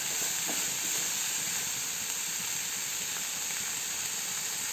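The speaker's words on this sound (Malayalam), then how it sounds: "സബോള ഒന്ന് വഴന്ന് വരാനായിട്ട് അല്പം ഉപ്പ് ചേർത്ത് കൊടുക്കാം" Onions sauté with salt in a hot pan, producing a steady, close, even sizzling hiss that continues without a break and with no voices over it.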